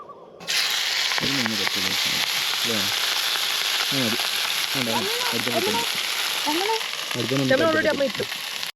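Fish sizzling steadily in a pan at a Yukon campsite, a loud continuous fry with occasional crackles, while a voice talks intermittently over it.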